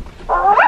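A dog gives one loud, close, drawn-out bark with a whining edge, heard alone.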